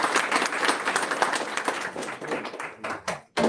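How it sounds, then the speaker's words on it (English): An audience at a school board meeting applauds an award recipient, a burst of clapping that thins out into a few scattered final claps before stopping. "a round of applause"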